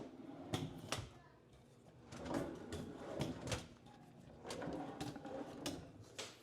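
Drawers in a hotel suite are pulled open and pushed shut, giving a handful of sharp wooden knocks and slides, faint and close in a quiet room.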